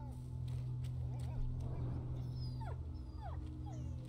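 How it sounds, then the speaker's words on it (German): A dog in the game A Plague Tale: Innocence whimpers in several short, high, wavering whines over a low steady background hum, fairly faint. "der Hund. Er winselt."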